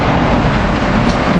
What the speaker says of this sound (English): Here we got Amtrak Regional Train 99 coming in, ACS leading.